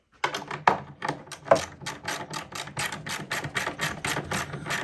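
Socket set ratchet tightening 6mm nuts on a ring-the-bell fairground high striker, a fast run of close, sharp clicking strokes in a steady rhythm with no talk.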